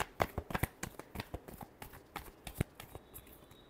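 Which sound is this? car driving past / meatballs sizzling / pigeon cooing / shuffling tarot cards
shuffling tarot cards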